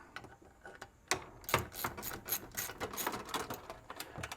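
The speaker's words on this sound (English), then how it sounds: "We're going to use just a ratchet wrench." A ratchet wrench loosens the bolts on a Chief steamer boiler, with rapid close mechanical clicking in bursts that grows busier after a quieter start, and no speech.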